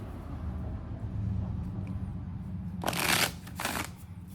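Moonology Messages Oracle cards get a quick riffle shuffle, a short crisp burst of flapping card sounds heard close up after a few moments of quiet room tone.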